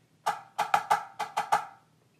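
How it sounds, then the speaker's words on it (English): Drumstick diddles on the offbeat land as quick paired strokes, close and crisp, in a tight rhythmic pattern of seven hits over about a second and a half. "And then on the next two beats, it's going to be a diddle on the te."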